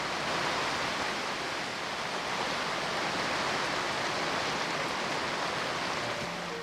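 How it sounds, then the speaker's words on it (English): Heavy pouring rain makes a dense, continuous broadband hiss, steady and fairly loud throughout with no pauses or voices. "It's pouring, not raining,"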